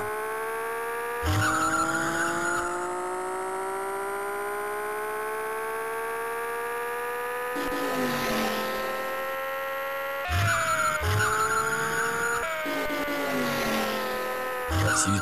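Tire squeals and skids in the Amiga video game Chase HQ, short bursts of screeching rubber breaking in over a steady, rising synthesized engine drone.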